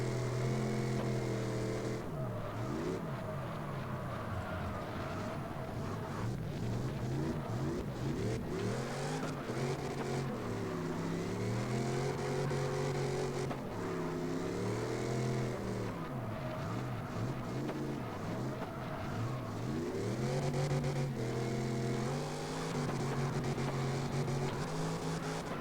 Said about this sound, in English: Sounds like he might actually also have a V8.